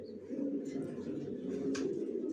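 Racer pigeons coo in a home loft, a soft steady low murmur running throughout with a few faint higher chirps.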